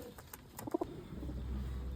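Domestic pigeons gathered for sale at a pigeon house give a couple of short, soft coos close by, set against low background rumble and scattered noises.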